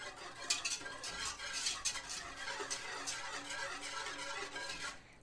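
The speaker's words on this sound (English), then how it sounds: "Now we're going to whisk that constantly over the medium heat to dissolve the sugar" A whisk scrapes steadily through milk and sugar in a pot over medium heat, producing continuous close metallic stirring and clinking with repeated bright strokes for about five seconds, ending abruptly with no talking.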